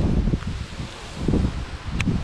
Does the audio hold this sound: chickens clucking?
no